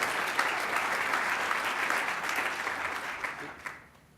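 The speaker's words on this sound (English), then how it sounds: "If we could have a round of applause for the team at NZBC" Sustained applause from a conference audience, a dense wash of many hands clapping at steady volume before tapering off near the end.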